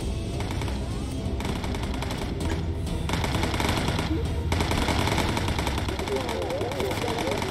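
Machine guns rattle in rapid bursts aboard a bomber in the Bomber Crew video game, with steady engine drone underneath and a voice talking throughout.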